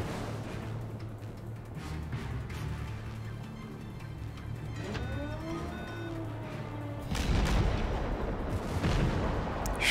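Warship guns boom in the World of Warships video game, deep heavy firing under a steady engine rumble, growing louder and denser near the end.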